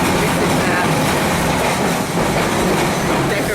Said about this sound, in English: This is the Free City Tram.